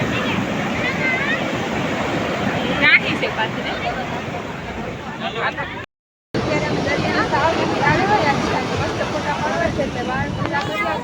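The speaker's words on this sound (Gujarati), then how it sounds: "મોજા પણ મસ્ત આવે છે અહીંયા" Loud, continuous rush of sea surf and wind close by at Porbandar beach during a fair, with waves washing over one another and a brief dropout midway.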